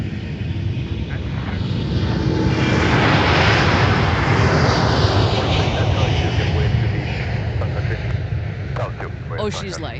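A fixed-wing airliner roars down the runway on takeoff at MSP airport, a loud broad engine rumble that swells in the middle and eases slightly, with a brief voice near the end.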